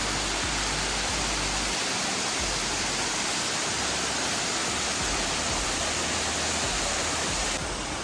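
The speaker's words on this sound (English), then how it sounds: "there's a waterfall there, a waterfall there, it leads to a pool there" A waterfall in Koh Phangan roars as a loud, steady broadband rush close by, continuous and unchanging from start to finish, with no voices over it.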